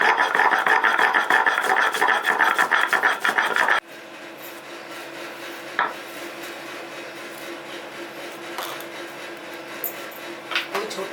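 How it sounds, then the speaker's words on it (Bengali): Spices are ground together into a paste on a grinding stone, giving a loud rhythmic rasping scrape with repeated strokes that stops abruptly, followed by quieter background hum and occasional soft knocks. "তা আমি এইগুলো মশলাগুলো সমস্ত একসঙ্গে বেটে নিচ্ছি।"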